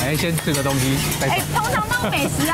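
A metal spatula clangs repeatedly on a flat griddle as fried rice is stir-fried at a Tainan street food stall, with rapid metallic clanks and sizzling running under people talking.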